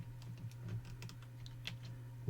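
Computer keyboard keys pressed for a shortcut, several soft, close clicks in a quick cluster over a steady low electrical hum.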